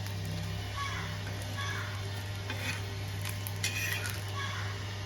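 Neer dosa batter cooking on a hot pan: a soft, steady sizzle with light scraping and clinks of utensils over a constant low hum.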